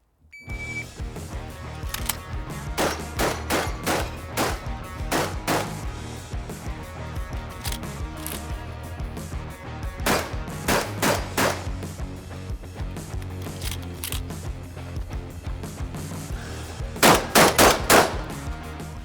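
Shotgun blasts at an outdoor shooting range, a semi-automatic competitor to the Benelli M2, fired in quick strings of sharp, loud reports with short pauses between volleys and a final rapid burst near the end.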